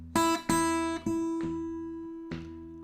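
A fingerstyle blues guitar plays a short syncopated exercise: a few plucked notes and chords ring out with clear sustain, spaced unevenly, followed by one late note. The playing is close and solo, with no voices.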